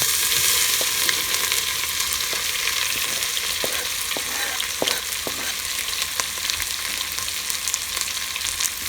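Onions sizzle and fry in hot oil alongside browned cashews in a pan over a medium flame. The sizzle holds steady and close, with occasional sharp crackles and no talk.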